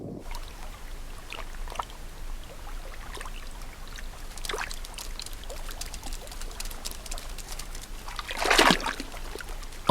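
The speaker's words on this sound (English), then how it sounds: "As the ice breaks, otters frolic in the freezing water." Otters splash and frolic in freezing water among breaking ice, with scattered faint splashes and trickles and one brief louder splash near the end, no voices.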